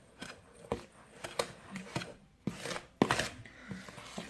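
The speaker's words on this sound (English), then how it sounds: "grab my whisk and mix all my dry ingredients together" Dry cake ingredients for a vanilla pudding cake are whisked in a bowl, giving a series of quick, close scraping taps and swishes in an irregular rhythm, with no talking.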